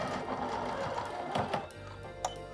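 A sewing machine stitches a seam on fabric pieces for a child's musical mobile, running steadily at close range and then pausing briefly near the end, with no voices.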